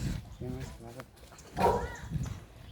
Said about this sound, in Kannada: ನೋಡಿ ತಕ್ಷಣ ನಾಯಿ ಬೊಗಳ್ತಿದೆ